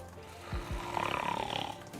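A person imitates a hibernating bear's snore, two low snorting grunts followed by a rattling, growly drawn-out breath, close to the microphone.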